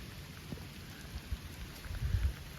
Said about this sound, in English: But it is raining per usual.